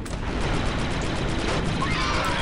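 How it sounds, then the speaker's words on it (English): A detonated charge explodes in Star Wars Republic Commando, giving a loud, dense burst of crackling noise that fills the short span and then trails off into a rumbling tail. "I hoped for something bigger, but that explosion is adequate"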